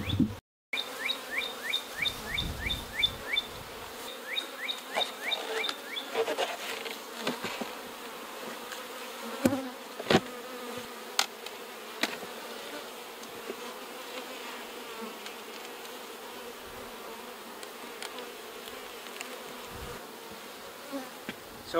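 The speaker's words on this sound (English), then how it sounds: "There's lots of bees." Honey bees swarm around an open beehive during a colony inspection, giving a steady close buzz with individual bees whining past and occasional clicks and knocks from the hive equipment.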